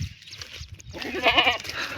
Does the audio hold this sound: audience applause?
no